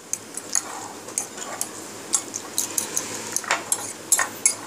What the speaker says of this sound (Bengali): ডিমটা একটু ভালো করে মিশিয়ে নেব আলু পেঁয়াজের সাথে।